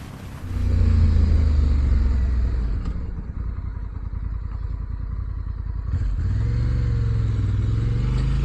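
A Honda Africa Twin CRF1100L with Showa electronic suspension rides off, its engine rumbling loud and close, pulling steadily with a throaty drone and changes in pitch as it accelerates and shifts through the gears.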